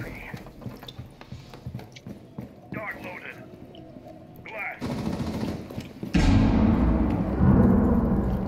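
Gunfire in a shooter game, a few sharp shots early under a player talking, then heavier rattling bursts and a loud, sustained barrage toward the end.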